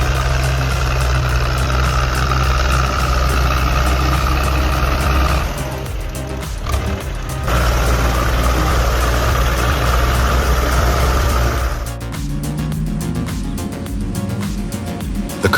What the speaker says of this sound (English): suddenly torn apart by the roar of a giant truck